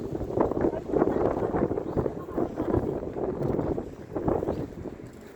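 Steady gusting wind buffets the microphone with a low, rumbling roar that rises and falls throughout, fairly loud and close.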